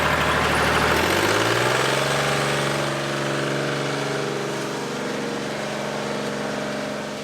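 A cold farm engine idles as it warms up at the end of a bean harvest, a loud steady low drone whose pitch settles and drops slightly after the first second, then holds evenly with no talking.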